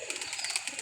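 Pigeons at a loft with a pair coming in, their soft cooing continuous and near across a short moment, alone without any talk.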